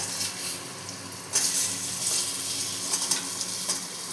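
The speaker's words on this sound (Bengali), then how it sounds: "এবার এর মধ্যে আমি কেটে রাখা বেগুনগুলো দিয়ে দেবো" Eggplant pieces fry with potatoes and turmeric in a pan, giving a continuous close sizzle with sharper bursts as the food is stirred and shifted, and no talking.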